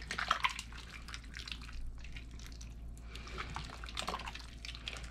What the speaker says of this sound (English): So our soup's been simmering for about 15 minutes.